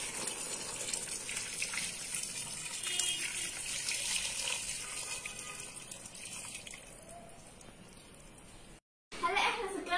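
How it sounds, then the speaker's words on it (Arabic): Warm water poured into a pot over chicken for kabsa gives a steady, fairly loud gushing pour that runs continuously, briefly cuts to silence near the end, then resumes. "هلا رح ندير مي دافية لحتى نغطي الدجاج"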